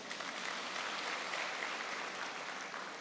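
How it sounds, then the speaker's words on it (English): A graduation audience gives sustained, even applause, a dense wash of many hands clapping at moderate distance without pause. "I thought you will give me a round of applause for that."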